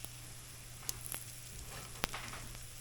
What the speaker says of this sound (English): we're going to wait until the bottom's brown a little bit